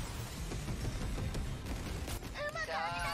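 Long-range missiles launch in the mech battle game 13 Sentinels: Aegis Rim, a dense, rumbling barrage of rapid blasts that runs continuously, topped near the end by bright synthetic warbling tones.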